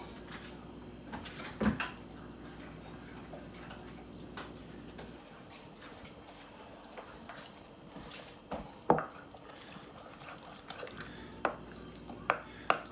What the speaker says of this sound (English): then we're gonna mix it up